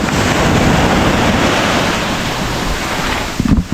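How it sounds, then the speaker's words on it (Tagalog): Powerful surf pounds the shore without pause, a loud, dense roar of breaking water mixed with gusts of wind buffeting the microphone, with a sharper burst of crashing near the end. "Sobrang lakas ng alon ngayon."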